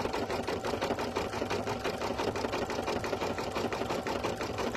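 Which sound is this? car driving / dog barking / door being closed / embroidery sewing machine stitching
embroidery sewing machine stitching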